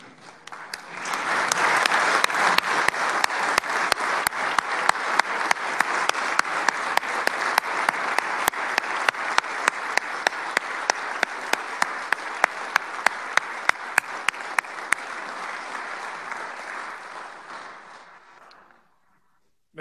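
Sustained applause fills a House legislative chamber for recognized master teachers, many hands clapping steadily for about seventeen seconds before it fades out.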